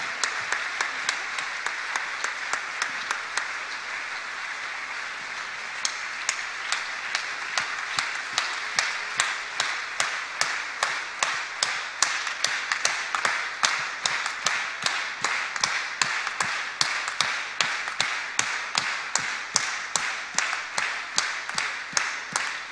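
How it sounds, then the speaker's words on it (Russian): A church congregation claps in a long, steady rhythmic beat that grows louder and more unified, an even pulse of synchronized hand claps carrying on for over twenty seconds. "Давайте дадим Господу большие аплодисменты"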